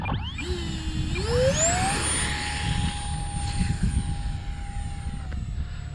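A 4S electric Dolphin jet trainer, radio-controlled, spools up for takeoff. Its fan whine climbs steeply in pitch, then holds a loud, high, steady scream as it pulls away, over a rumbling roll with no talk.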